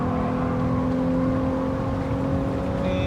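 A car accelerating at full throttle in Gran Turismo 7, a steady engine drone with a sustained rising whine, loud and continuous, no talking.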